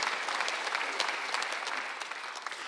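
Church congregation applauding during a Sunday worship service, a brief burst of dense steady clapping from many hands, fairly close, with no talk over it.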